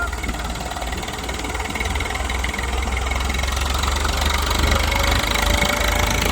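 Eicher tractor engine labouring under heavy load in a tractor-pulling contest, revs bogging down and then climbing again; a loud, continuous mechanical drone with steady vibration fills the whole stretch.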